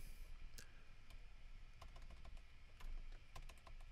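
Quiet, close keystrokes on a computer keyboard come in irregular bursts of clicks over a low background hum, with no voices.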